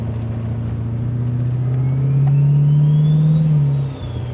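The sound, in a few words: turbo V8 1984 XE Falcon wagon engine revving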